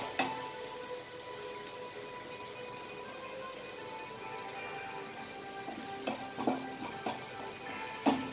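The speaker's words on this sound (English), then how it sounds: "Fry it nicely." Pointed gourd and onions fry in a pan over a high flame, giving a steady, fairly quiet sizzle, with a few clinks of a utensil near the end and no voices.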